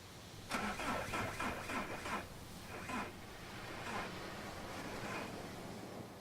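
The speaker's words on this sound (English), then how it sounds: "I already tried the engine." In the video game Far From Noise, a car engine cranks repeatedly with a rhythmic whirring but fails to start, catches briefly, then settles into a low rumble; somewhat faint.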